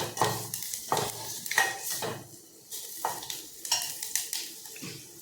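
A spoon scrapes and knocks repeatedly against a pan while a kadhi tempering roasts with a soft sizzle underneath, the stirring strokes coming in uneven bursts, close and moderately loud.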